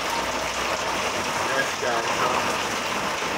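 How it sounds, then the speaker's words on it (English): Heavy rain pours down outside in a steady, dense hiss that fills the whole stretch without a break, with a person talking over it. "heavy rainfall out there, guys"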